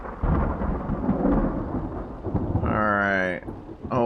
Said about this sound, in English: you guys may hear some rumbling from the thunder